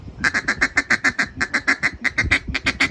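A world champion duck caller blows a duck call imitating feeding chatter: a fast, steady run of about fifteen short, nasal clucks, close and loud with no talking.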